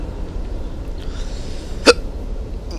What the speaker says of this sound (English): Oh, get the hiccups now.